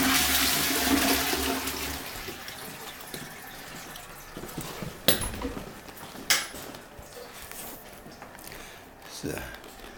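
A pull-chain toilet in a church flushes with a loud rushing gush of water that tapers into refill trickling, followed by a few sharp clunks nearby.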